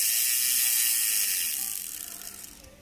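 Ratchet winding of a Beyblade Dragoon G launcher, a fast plastic clicking whir that holds steady, then fades and slows toward the end, close and fairly quiet.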